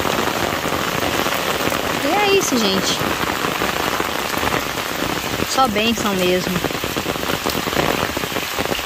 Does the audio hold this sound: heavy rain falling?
yes